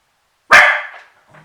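Mila, a pet dog, gives a single sharp, loud bark close by indoors, followed by a brief faint rustle.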